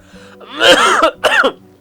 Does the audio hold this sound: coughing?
yes